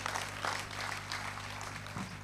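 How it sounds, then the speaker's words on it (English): A conference audience applauds in a steady wash of clapping that holds at an even, moderate level throughout, with a faint low hum underneath. "let's give them a resounding applause"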